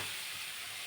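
Chopped onion greens frying in a pan, a steady close hiss and sizzle lasting under a second with no talk.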